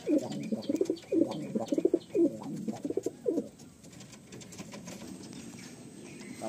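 Madrasi pigeons in a breeding loft give a series of close, throaty coos in quick bursts, fading to a quiet background hum after a few seconds.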